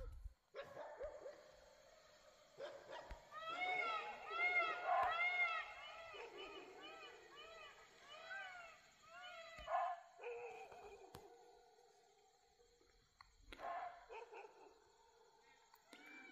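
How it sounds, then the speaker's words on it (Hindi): Dogs bark in the background at night in Rajaji Tiger Reserve, India, with repeated yelping barks in bursts that sound moderately distant, while a person talks quietly at intervals. "पीछे से कुत्ते के भौंकने की आवाज़ आ रही है"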